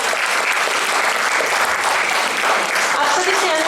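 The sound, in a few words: audience applause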